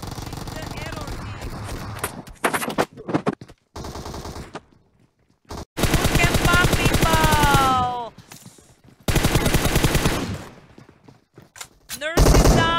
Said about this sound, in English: They're shooting him also from up the hill.